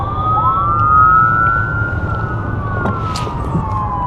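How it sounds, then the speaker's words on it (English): A wailing emergency vehicle siren rising and holding steady over heavy city traffic rumble, loud and fairly close. "Sirens, the city's alive."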